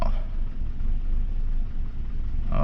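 A 2002 Toyota RAV4 engine surges steadily up and down while driving through the gears, a continuous low rumble that swells and eases with no talk over it.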